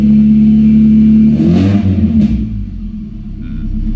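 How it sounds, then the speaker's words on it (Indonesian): A Suzuki Baleno car engine revs with a sudden blip, the deep exhaust rumble swelling loudly and then settling back to a steady idle, close by with no talk. "dihentakkan tuh knalpot jadi beda suaranya"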